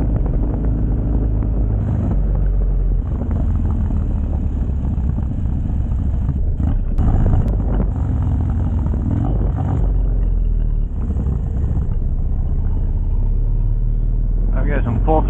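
Harley-Davidson Dyna motorcycle with a Dynojet Power Vision tuner, its engine held at full throttle in a steady, loud, low roar while riding, mixed with heavy wind noise and someone talking.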